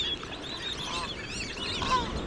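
Great egret calling at a wetland lagoon along a river, a busy run of harsh, honking, overlapping calls at moderate distance with a steady chorus of other waterbird sounds behind.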